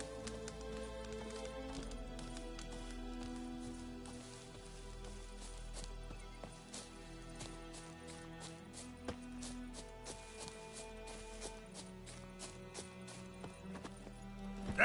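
Roach the horse's hooves clip-clop in a steady rhythm in The Witcher 3, set under dense background music and ambience at a moderate distance.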